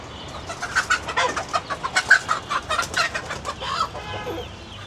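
Chickens cluck in a coop on a rainy day, waiting to be fed, giving a quick run of sharp, close clucks and squawks that fades toward the end.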